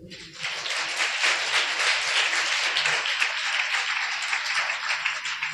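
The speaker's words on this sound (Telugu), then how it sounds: "ఒకసారి గట్టిగా చప్పట్లు కొట్టండి" A church congregation claps loudly together, a dense, sustained burst of applause that fills the hall at an even level for several seconds.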